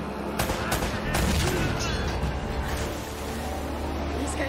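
Gunfire in the action game Uncharted: Drake's Fortune: dense automatic bursts and single shots from an ambush, loud and continuous, with a voice partly heard under the shooting.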